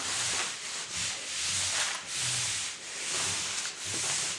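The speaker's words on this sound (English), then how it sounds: "And now we are going to rub it on. You really want to rub that on." Hands rubbing paper pressed onto an inked bubble wrap print: a steady, close, scratchy swish in repeated back-and-forth strokes about a second apart, loud and continuous, with no speech.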